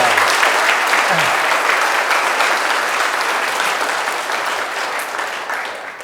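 A lecture audience applauds with steady, dense clapping filling the hall and fading slightly toward the end.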